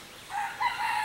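A rooster crows on a farm, a short, bright, strained call rising and holding near its end, fairly close with no talking.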